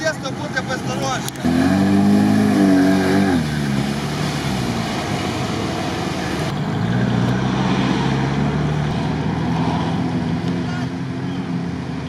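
An off-road vehicle engine runs and drives at an off-road festival, a loud steady drone that surges as it revs with a rising pitch, while people talk nearby.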